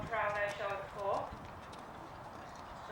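Horse hooves clip-clop on the surface of a dressage arena during schooling work, a few close steps that fade into a quieter stretch, with voices talking over them.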